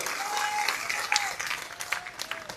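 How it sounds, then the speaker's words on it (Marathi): A crowd applauding at a protest rally in Nanded, sustained clapping at moderate distance with a few sharper individual claps and faint whistles or voices mixed in. "जोरजोरात टाळ्या वाजवा"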